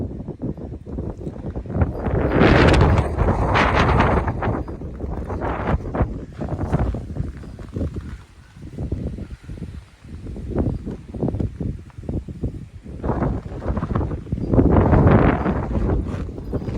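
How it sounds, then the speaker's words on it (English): Strong wind of about 25 miles per hour gusts at night in remote Alaska, roaring and buffeting the microphone in loud surging waves that rise and fall throughout. "It's about 25-mile-per-hour winds out here tonight."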